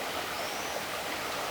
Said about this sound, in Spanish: Ahí está la cascada que regresa